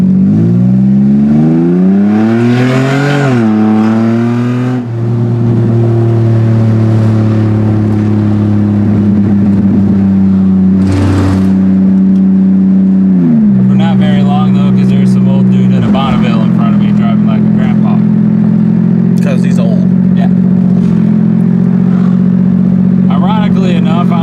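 An Infiniti G35X engine roars loudly and close as the car pulls hard under acceleration, pitch climbing through the revs with a couple of shifts, under a steady drone from inside the cabin.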